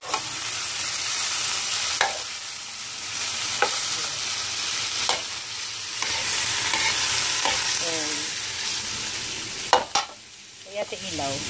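Chicken being added to a pot while making chicken soup sizzles and frys steadily, and a utensil scrapes and stirs in a few brief knocks and swirls over the hiss, with no talking.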